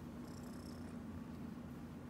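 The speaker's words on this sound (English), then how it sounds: "He's purring up a storm." A rescued cat purrs steadily and continuously, a close, low rumbling drone that carries on without a break and with no voices over it.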